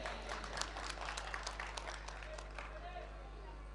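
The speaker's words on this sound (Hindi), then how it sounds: "चलिए एक बार तालियां बजाइए" Audience clapping at a Hindi poetry recital, a dense burst of applause that swells, then thins and fades toward the end, heard at moderate level with a steady low hum underneath.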